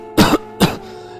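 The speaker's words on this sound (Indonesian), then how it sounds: "terdengar suara orang batuk ketika pintu gudang itu tertutup" A person coughs twice in quick succession, two sharp, close, rough bursts standing alone with no talking.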